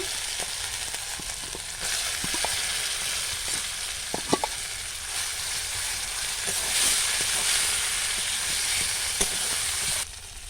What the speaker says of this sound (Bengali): আর দিয়ে দেবো সামান্য আদা রসুন বাটা। বেটে রাখা মটরশুঁটিটা দিয়ে দেব।